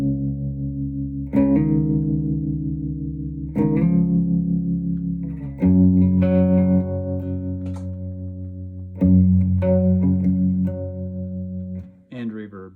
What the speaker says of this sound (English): I always want tremolo on the baritone.